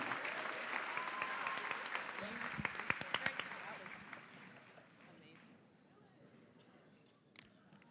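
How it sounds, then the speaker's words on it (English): Audience applause for high school CTE certification students at a senior recognition ceremony, a broad wash of clapping that swells with a few sharp claps near the middle, then thins and fades toward the end. "Please give these CTE certification students your round of applause"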